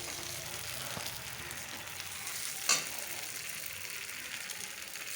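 Vegetables for a fish dish frying in a pan with only turmeric, giving a steady close sizzle throughout with one brief louder crackle partway through, and no talking.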